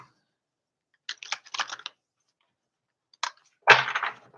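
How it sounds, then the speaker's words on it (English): Bursts of quick papery riffling and snapping, like cards being shuffled, come in three separate rounds with silence between, the last one loudest and close. "let me shuffle this other deck"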